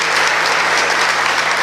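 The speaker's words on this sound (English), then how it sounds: "Y'all give Brother Tremaine a round of applause too." An audience at a presidential candidates forum in Selma claps in steady, dense applause that carries loudly and evenly throughout.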